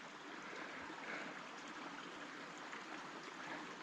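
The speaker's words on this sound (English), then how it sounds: "And there's a creek there." A creek flows beside a bridge on the Middle Fork of the Snoqualmie River trail in a steady, even rush of water, fairly faint and continuous with no voices over it.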